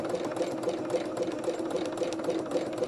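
A sewing machine set to zigzag runs steadily for free motion embroidery, its needle chattering in a fast, even, continuous mechanical rhythm at close range with no talk over it.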